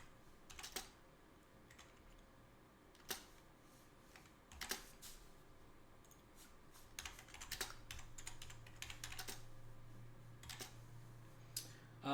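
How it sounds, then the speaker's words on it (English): Typing on a computer keyboard nearby, scattered clicks and short clattering bursts with pauses between them over a quiet low hum, no speech. "Sorry for the typing, guys."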